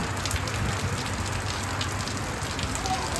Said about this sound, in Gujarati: ગાઈસ અમારે તો ફૂલ વરસાદ ચાલુ થઈ ગયો છે